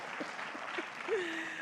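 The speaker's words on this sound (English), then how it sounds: "please clap for me" Conference audience applause at an APBA gathering, a brief, moderately faint patter of clapping with a single voice cutting in near the end.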